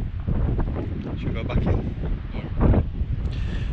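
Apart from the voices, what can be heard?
strong wind blowing outdoors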